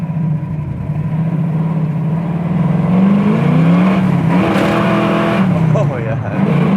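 A 1978 Camaro Z28 V8 revs hard and accelerates in second gear, a loud, steady engine roar with pitch rising and falling throughout, heard close from inside the car, with voices talking over it.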